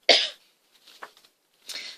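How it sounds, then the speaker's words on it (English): A single loud cough bursts out near the start, followed by faint throat noises and a second, softer cough near the end; no speech is heard. "I'm going to have a coughing fit."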